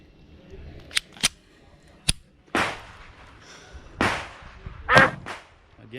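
Dan Wesson Eco pistol fires a few sharp, isolated shots at a range, each a crisp crack at irregular intervals, with quieter handling noises and brief talk between them.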